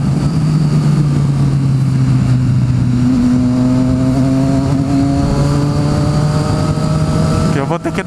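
Engines of a group of 18 motorcycles rev and accelerate near a petrol station in Barueri, a steady loud drone with rising pitch sweeps throughout, speech murmuring underneath.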